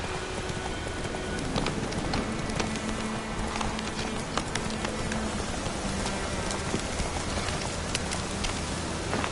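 Roach, a horse in The Witcher 3, trots with steady clip-clopping hooves amid a continuous hiss of rain, the footfalls moderately loud and even against the dense wet backdrop.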